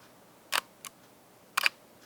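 Single-lens reflex camera shutter firing close to a microphone: a sharp two-part click, a softer tick, then another crisp double click, isolated in a quiet room.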